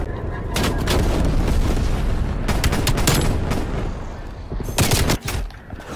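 Rapid M16 rifle fire in Call of Duty: Cold War rattles out in several loud, close bursts, with dense shooting filling the whole stretch.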